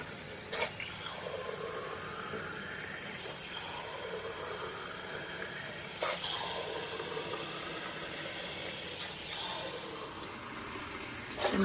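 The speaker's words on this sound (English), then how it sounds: "I'm just gonna fill these jars up with water" Tap water runs into glass jars being filled for canning salsa, coming in four separate bursts of splashing, rising-pitch filling, with quiet pauses between each jar.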